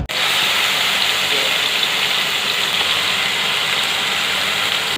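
Chicken breast goes into hot oil in a pan and sets off a sudden, steady hiss of frying that holds loud and even at close range.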